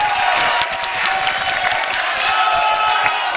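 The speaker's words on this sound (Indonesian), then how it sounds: "Tepuk tangan untuk para pendukung yang bersemangat malam hari ini." A crowd of supporters at a Jakarta gubernatorial debate claps and cheers loudly, a dense continuous roar of applause with scattered whoops.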